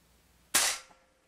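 Crosman 362 .22 caliber multi-pump air rifle fired once after ten pumps: a single sharp, loud crack with a short bright tail, heard alone in a quiet setting.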